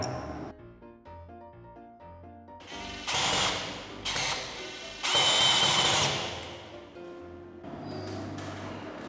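A power drill with masonry bits drilling into concrete whirs in several bursts, loud grinding stretches separated by lower motor hum, close by with no talking.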